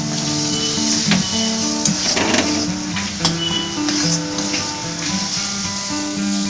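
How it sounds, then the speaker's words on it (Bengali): Cumin powder, sugar and ground spices frying in a pan for a pointed gourd malai curry, a steady close sizzle with occasional stirring scrapes, while soft background music plays throughout. "এরপর সব উপকরণগুলো আমি আরও ভালো করে ভেজে নিচ্ছি"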